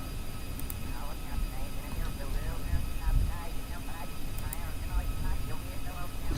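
A vehicle engine in Kerbal Space Program runs at barely any throttle, a steady low whir and hum that continues beneath someone talking throughout.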